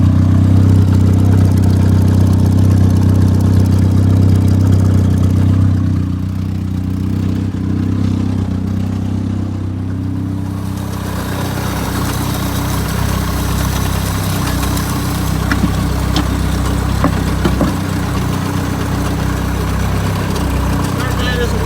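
A Toyota Wolverine engine idles smoothly and steadily with a low, even hum and slight vibration, close by and continuous, with a brief change in tone partway through and no voices over it.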